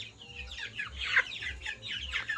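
Crested native chickens on an integrated farm cluck in quick, repeated bursts close by, with several birds overlapping and no voices present.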